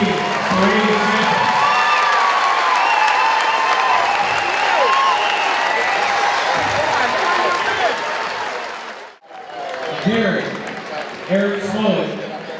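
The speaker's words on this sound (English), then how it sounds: "A round of applause for your 2014 parade champion." A crowd applauds and cheers loudly at a junior wrestling event, with whoops and shouts over dense clapping, a brief dip near the end before the cheering swells again, and voices mixed in.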